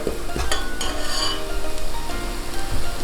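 Chili gravy for dum aloo sizzles in a pan while a spoon stirs and scrapes it, with sharp metallic knocks at the start and around the middle over constant close frying hiss.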